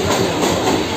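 Train running on rails, heard from on board during a trip to Pandav waterfalls in Kharghar. A loud, steady rumble with a continuous clattering wash and no speech.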